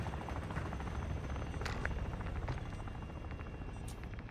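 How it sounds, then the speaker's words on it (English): Enemy attack helicopter from Call of Duty DMZ on Ashika Island, a steady low rotor drone and buzz that stays at an even level throughout, without speech. "Enemy attack helo is heading your way."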